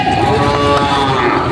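Goats at a Batangas livestock market, brought in from Masbate, bleat loudly and close, a sustained nasal cry filling the moment.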